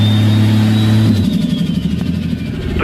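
Rear-wheel-drive race car engine holding a steady mid-pitched drone, then shifting into a rougher, pulsing rev with a falling whine, loud and close with no talking.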